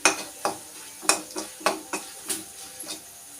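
Chili powder going into a hot pan for a curry with tamarind water, with a steady sizzle and about eight sharp, evenly spaced stirring scrapes of the spoon, close and moderately loud, with no voices.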